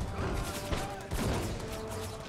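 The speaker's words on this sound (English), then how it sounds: "Ooh, collateral shots. Boom, boom." Dense musket volleys crackle in an Empire: Total War battle as Mexico defends Norway, a continuous rolling fusillade with heavier thumps that stays loud throughout.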